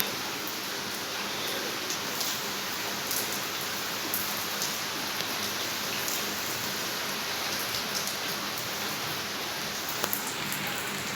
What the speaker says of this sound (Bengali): এই যে অনর্গল বৃষ্টি হয়ে যাচ্ছে এই যে বৃষ্টি হচ্ছে দেখো সর্বক্ষণ বৃষ্টি হয়েই যাচ্ছে